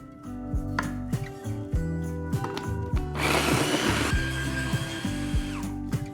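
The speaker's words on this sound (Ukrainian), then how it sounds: "просто будемо перебивати на блендері до однорідності" A blender puréeing tomatoes whirs in short pulses, its motor pitch rising and falling, then settles into a longer, rougher churning grind as the contents break down.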